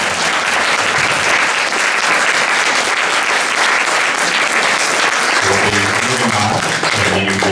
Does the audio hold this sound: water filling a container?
no